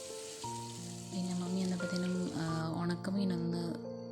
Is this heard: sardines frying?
yes